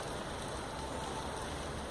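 Rain falls on a street in a steady, hissing wash of noise, faint and continuous with no talking.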